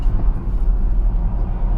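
A 2019 Chevrolet Express 3500 van engine bogs under load while driving, a steady heavy low rumble with uneven surging, close and loud throughout with no talk.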